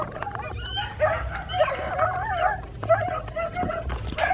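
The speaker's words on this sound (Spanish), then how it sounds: "Mira, bastante perro aquí." Several dogs bark, yip and whimper outdoors at a moderate distance, yelping in irregular bursts over steady background noise with faint voices.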